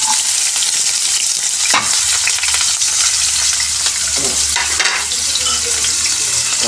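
An egg and onion mixture heats in a pan, giving a loud, steady sizzle and bubbling hiss throughout, broken by a couple of brief scraping stirs near the middle, with no talking.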